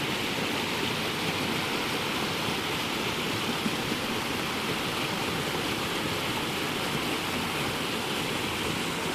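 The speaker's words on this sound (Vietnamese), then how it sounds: "Nước chảy ầm ầm luôn" Steady, powerful roar of a rushing mountain stream, loud and unbroken throughout with no voices.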